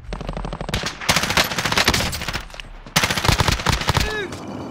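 Rapid video-game gunfire from a house in a trio match, dense bursts of loud automatic shots in two main volleys with short pauses, plus a few whizzing ricochet-like chirps near the end.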